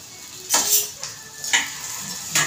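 Onions sizzling in a hot kadai on low gas, a steady soft frying hiss with several sharp scrapes of a spatula stirring against the metal pan.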